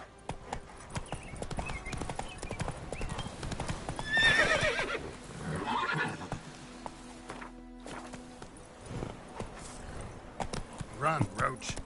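Hooves clip-clop quickly as a horse gallops in The Witcher 3, with a neigh and whinny breaking in partway through; someone speaks over the rhythmic, close hoofbeats.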